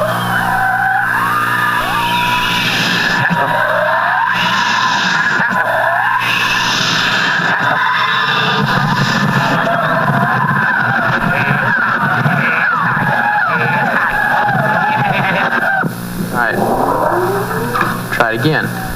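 A rock song recording played in reverse, with smeared, backward-swelling vocals and instruments forming a loud continuous dense wash that breaks briefly near the end.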